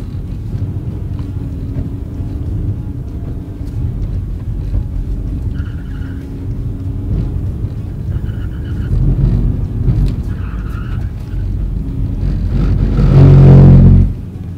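Rear-wheel-drive car during an advanced driving exercise: a continuous low engine rumble with faint higher tones, swelling into a loud, close acceleration surge near the end.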